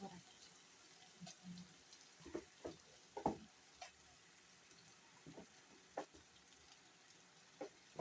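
Tomatoes and ground spice paste sauté in a pan for a Tamil medicinal kuzhambu, soft sizzling beneath scattered clinks and stirring scrapes, fairly quiet and close.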